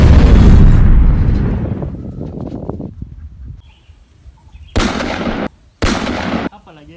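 Gunfire from a zombie-shooting video game: a heavy blast at the start rolls off into a fading rumble, then two sharp, loud bursts of shots follow in quick succession.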